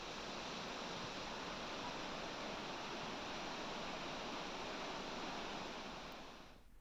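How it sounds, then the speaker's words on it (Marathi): Waterfall at Jitwane bridge in heavy monsoon rain, a dense, steady roar of rushing water that stays loud and even before tapering off at the very end. "जितवणे पुलावरचा धबधबा जो आहे तो प्रवाहित झालाय"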